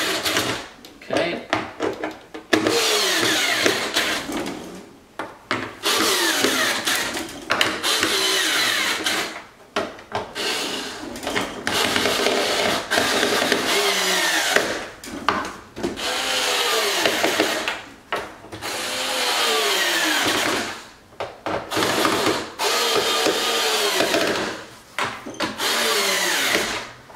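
A power tool drives screws while a carbon fiber front splitter is fitted to a car, in repeated whirring bursts separated by short pauses, with a person talking between them.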